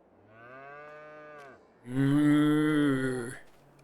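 Two drawn-out cow moos in Farming Simulator 22, a softer lower call followed by a louder, brighter one, close and clear with no talk over them.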